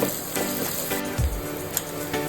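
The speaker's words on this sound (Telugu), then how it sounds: "ఇక ముందుగా కట్ చేసుకున్న ఆనియన్స్ దీంట్లో వేసి బాగా వేయించుదాం" Chopped onions frying in a pan for a mutton curry with curry leaves, a moderate steady sizzle with a brief low thump of the pieces going in.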